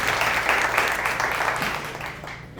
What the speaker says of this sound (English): Everybody give another round of applause for Dan.